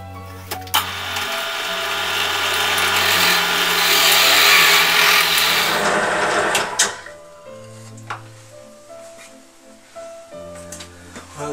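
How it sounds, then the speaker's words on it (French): A power drill bores a hole in cherry wood for a Breton spoon holder, whirring loudly and close for about six seconds before winding down, followed by a few light knocks and handling sounds. "Donc là on va déjà percer cette partie là."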